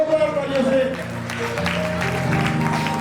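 Applause from an audience at a pichhika parivartan ceremony for Jain monks in Usmanpur, steady clapping under a voice speaking over a sound system and music.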